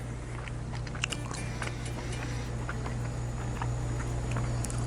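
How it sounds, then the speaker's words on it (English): Someone eats steak roulade cooked outdoors in cast iron, with soft, close bites and chewing sounds scattered over a steady low background hum. The chewing is quiet and there is no talking. "give that steak roulade a little taste test"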